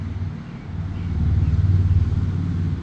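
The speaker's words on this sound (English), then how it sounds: "Hopefully that traffic noise isn't too loud." Steady low rumble of road traffic passing outside during an indoor RC crawler session on a rainy day, swelling louder midway and holding as a continuous drone with no talk over it.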